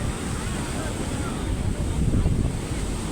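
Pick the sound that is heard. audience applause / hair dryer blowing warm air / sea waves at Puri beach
sea waves at Puri beach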